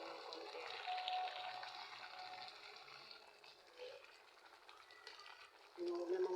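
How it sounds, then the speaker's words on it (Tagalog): A spoon stirs chunks of jackfruit simmering in coconut milk in a pot, giving soft wet sloshing and bubbling that is steady and close, with a brief brighter clink near the end. "Halo-haloin ko lang ng konti."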